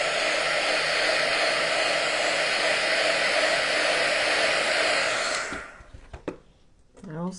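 A hair dryer blows steadily on paint on a witch's hat and boots craft piece, a loud, close, continuous whooshing roar for about five seconds that then cuts off, leaving quiet breathy sounds.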